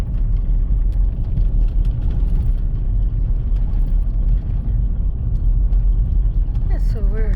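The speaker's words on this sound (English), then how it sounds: "if they want to take a fun truck ride with me here in Montana" A truck drives north along a mountain road in Montana's North Fork area, its engine and tyres making a loud, continuous low rumble from inside the cab, with a voice talking over it.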